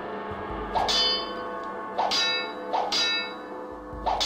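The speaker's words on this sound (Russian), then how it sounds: "Когда я бью мячом, гонг не звенит, а когда мячиком звенит." A gong in the Thief: Dark Project game rings out as a small ball strikes it, four bright metallic clangs at irregular intervals, each leaving a shimmering ringing tail, with no speech.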